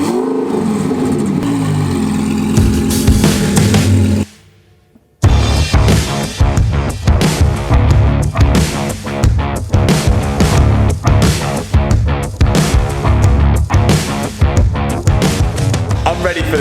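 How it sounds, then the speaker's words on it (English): A twin-turbo Lamborghini Gallardo strapped to a dyno roars through a hard run, loud and close, broken by a brief near-silent gap before the engine note surges again. "Let's get this thing in the dyno and see what it runs on the first little dyno run."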